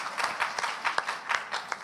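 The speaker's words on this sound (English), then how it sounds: "please give them a big round of applause for making their presence here tonight." Brief audience applause at a gala night ceremony for cultural diversity, a moderate wash of clapping from a seated crowd lasting under two seconds.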